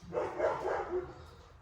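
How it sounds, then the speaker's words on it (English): A big dog barks from a backyard, a few rough barks heard at a moderate distance, alone without any talking. "he's got a pretty big bark back there"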